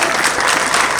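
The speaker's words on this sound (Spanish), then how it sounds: "yo creo que les damos un fuerte aplauso" Audience at an event on the water impacts of industrial limestone extraction, clapping in a dense, continuous burst that stays loud and close for a second, with no talk.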